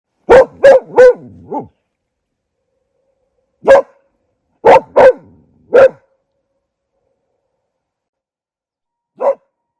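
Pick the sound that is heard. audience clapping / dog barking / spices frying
dog barking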